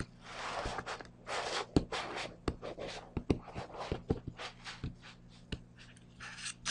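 A pen or marker scratches on paper in short, separate strokes while drawing a dotted line for a graphed inequality. Quick scratchy dashes follow one another unevenly, close and clear, with no voice.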